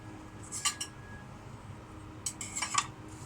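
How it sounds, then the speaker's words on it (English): A knife cuts into a cooked sausage with two short clusters of sharp clinking and scraping against a plate, near and quiet, separated by a soft pause. "As we're cutting into the sausage"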